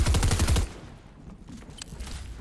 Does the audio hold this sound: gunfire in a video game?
yes